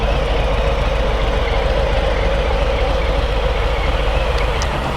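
A motorcycle engine idles steadily nearby, a low rumbling chug with a rapid, even rhythm that holds constant throughout.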